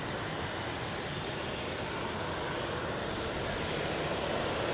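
A SunExpress Boeing 737-800 at Zurich Airport produces a steady, broad jet engine roar that holds constant throughout at moderate distance.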